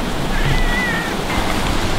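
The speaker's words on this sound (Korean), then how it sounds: "그 사이에 이렇게 개울이라 그러면 이런 물이 흐릅니다" Water swollen by heavy rain rushes continuously through a stream between campsites, a loud, dense and broadband wash heard up close with no other sounds over it.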